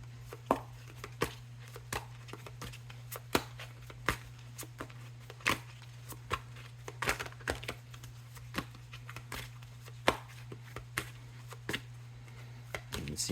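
Tarot cards being shuffled up close, irregular soft slaps and riffles repeating over a low steady hum.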